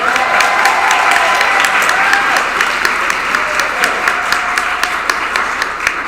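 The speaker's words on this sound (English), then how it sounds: "Can we give Chef Holly and her crew a loud round of applause?" A lunch crowd at a Black History Month soul food celebration gives the chef and kitchen crew a loud, sustained round of applause, dense clapping holding steady throughout with a few sharper claps standing out near the end.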